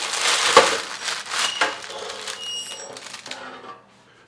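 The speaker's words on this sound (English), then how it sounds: "Let's transfer these to a cooling rack." Freshly baked biscuits are moved onto a metal cooling rack with clattering, scraping and a few sharp clinks, fairly close, fading toward the end, with no talking.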